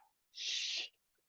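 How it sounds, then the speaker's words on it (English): A single short, breathy snort from a dog over a phone or conference line, close and fairly quiet, with silence around it. "Sorry, that's my dog."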